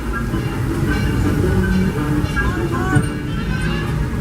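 Disneyland Railroad steam train Ernest S. Marsh #4 rolls into Mickey's Toontown Depot to a stop, a steady loud rumble and rattle of cars with a faint squeal, while a voice talks over it.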